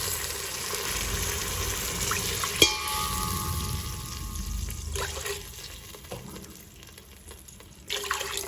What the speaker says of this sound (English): Now I'm adding 8 katoris, these small bowls of 8 bowls of water.